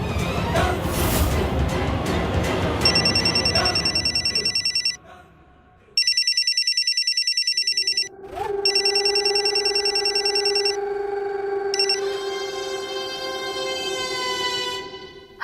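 A telephone rings during a call home in a Hindi drama, with several loud, sustained electronic ring bursts broken by short gaps, following a stretch of busy background sound.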